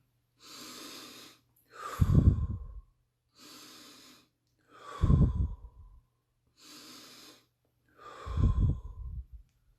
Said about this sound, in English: if you listen, it goes like this. That's because I'm breathing